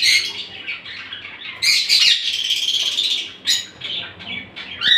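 Caged pet parrotlets, an ino split pair, chirp and squawk in bright, close bursts that rise and fall irregularly, some calls sharper and louder than others, with no speech.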